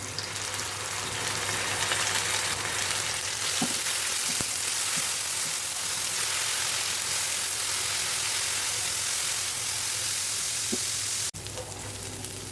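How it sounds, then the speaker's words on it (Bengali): Onion paste fries in hot oil with a loud, continuous sizzle and crackle close by, broken by a few soft stirring taps and a sudden dip near the end. "পেঁয়াজ বাটা দিয়ে দিলাম।"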